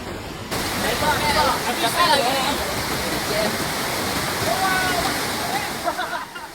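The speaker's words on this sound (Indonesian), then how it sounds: "debit sungai Batang Kuranji meningkat tajam hingga akhirnya meluap dan menggenangi permukiman warga" The flooding Batang Kuranji river in Padang, West Sumatra, rushes as a loud, continuous broadband roar of water throughout, with a voice faintly audible over it.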